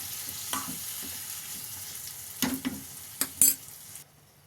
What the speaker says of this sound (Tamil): மத்தாலையோ அல்லது கரண்டியாலேயோ நல்லா மெசிச்சு விட்டிங்கன்னா நல்லா பேஸ்ட் மாதிரி வந்துடும் உங்களுக்கு